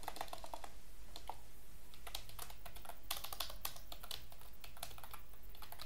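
A computer keyboard is typed on at close range in short bursts of rapid key clicks separated by brief pauses, quiet and with no talking.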